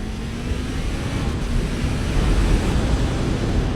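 A QJ Motor SRK 800 Dark motorcycle engine drones steadily while riding, buried under heavy rushing wind noise with a faint continuous engine tone throughout.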